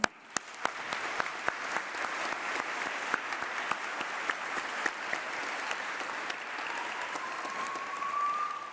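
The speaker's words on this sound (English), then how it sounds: "Please, can we give all our lecturers a round of applause?" Sustained audience applause for the lecturers at a winter university congregation ceremony, a dense, even rain of clapping with occasional crisp close claps, swelling slightly toward the end with no speech.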